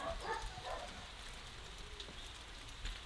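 Light rain falls outdoors near a goat pen, a faint, steady patter of drops on surfaces with no voices.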